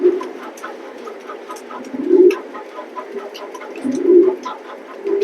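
Racing pigeons coo in a pigeon loft, two low rounded coos rising clearly above a busy background of softer bird calls and fluttering.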